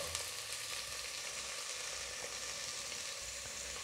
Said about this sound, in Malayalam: ഇതിലേക്ക് ഞാനൊരു 2 സവാള അരിഞ്ഞതും കൂടി ഇട്ട് കൊടുക്കുക.